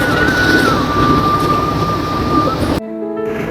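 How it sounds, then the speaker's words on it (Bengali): A passenger train at a station on the Chattogram to Mymensingh route gives a loud, close rumbling roar with a sustained high squealing tone running through it, which stops abruptly near the end. "এটা হচ্ছে সেই এসএস নাম্বার বগি এটা দিয়ে আজকে আমাদের ময়মনসিং যাত্রা হবে"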